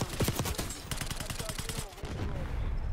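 Rapid automatic gunfire in the Black Ops 6 video game from a PP-919 submachine gun, a fast even burst of shots for about two seconds, then a busier background rumble.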